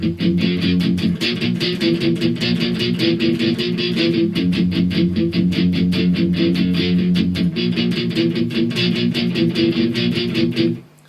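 Electric guitar playing the intro with steady, rapid palm-muted downstrokes, loud and continuous for about eleven seconds before cutting off, with no talking.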